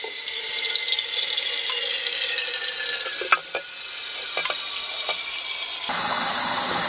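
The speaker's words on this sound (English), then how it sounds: "we're going to go wash it out with some soapy water and a degreaser" Hot soapy water with degreaser sloshes and hisses inside a rusty 1986 Honda TRX70 quad gas tank, a close steady rushing noise with a few knocks, ending in louder pouring water.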